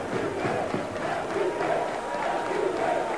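Székesfehérvár home crowd at a basketball game roaring and cheering wildly as fans rise from their seats, a dense, continuous wall of shouting voices that stays loud throughout.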